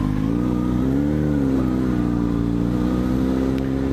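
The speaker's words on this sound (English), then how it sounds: "Oh, somebody revved really high." A motor vehicle engine revs high close by, a steady loud drone with a brief rise in pitch near the start, with no voices over it.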